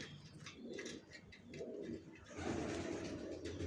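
Young racer pigeons coo softly in a few low, throaty bursts, close and fairly quiet, with faint background noise.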